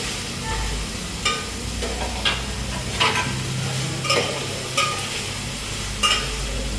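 Tomatoes and potatoes fry in a pan, a steady low sizzle broken by roughly six sharp scrapes of the spoon as they are stirred, close and moderately loud with no talking.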